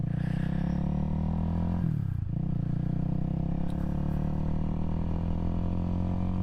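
A Honda Rebel 300 motorcycle rides along with a steady, close engine drone and a short dip in pitch as it shifts, then settles back into an even cruising hum.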